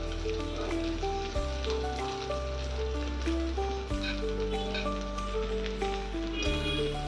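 Okra (bhindi) masala without onion or garlic fries in a pan, giving a steady, even sizzle beneath louder background music.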